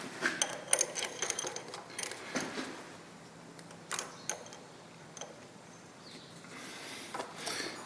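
A countersink tool on a long shank cuts into metal with intermittent chattering clicks and short scraping bursts, fairly close and uneven in rhythm, with no voices.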